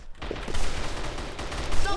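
Rapid bursts of gunfire from a shooting video game, including sniper shots, crackle continuously over a dense mix of game effects, with a player talking faintly underneath.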